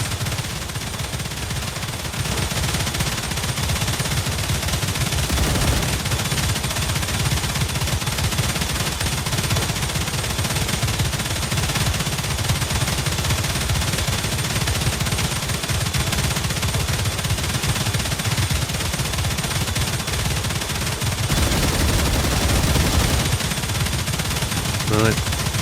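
Sustained automatic gunfire in the game StarRupture, a dense, loud rattle of shots running almost unbroken for the whole stretch, with a brief lull near the start and a voice faintly underneath.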